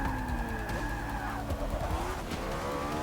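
Tires squealing as a car slides through a corner too fast in Forza Motorsport 6, a drawn-out skid over a steady engine drone, fairly quiet with no voices.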